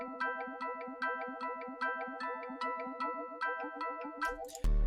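Bright pluck synth from the Fikon library, a preset called Timbre, repeats the same chord stabs in an even rhythm at moderate volume, ending in a brief burst of noise and a low thump.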